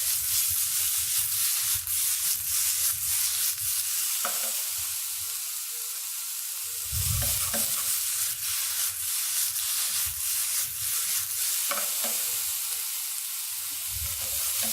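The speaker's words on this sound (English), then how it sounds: "You want to give it a nice stir fry." Fiddleheads and garlic stir-fry in a pan, with a continuous close sizzle broken by repeated scraping and tossing strokes that come in irregular bursts, no voices.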